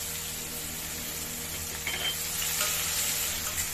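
Sliced onions, cumin seeds, cloves, cardamom and a bay leaf fry in hot oil for a Bengali katla fish curry, giving a steady loud sizzle throughout that grows slightly busier partway through, with no speech.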